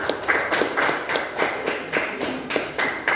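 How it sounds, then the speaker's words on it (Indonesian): A seventh-grade art class gives rhythmic group clapping for a student named Lestari, steady beats in short regular bursts, fairly close and moderately loud. "Tepuk tangan buat Lestari"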